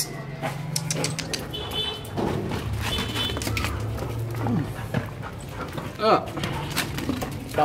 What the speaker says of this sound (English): I'm being harassed by my dog